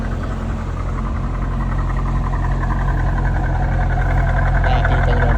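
A Chevrolet Lumina SS idles with a loud, continuous, low exhaust rumble that holds steady throughout, close by and alone.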